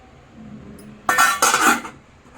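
Ghee hits hot coal set in a small bowl inside a pot of dhaba-style chicken tandoori, and a lid goes on: two short, bright clattering sizzles close by, with a quiet room before and after and no talk.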